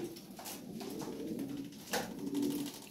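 Close-up, soft cooing comes from red Lahori pigeons, an imported pair with red beaks, in repeated low murmuring bursts over faint background noise.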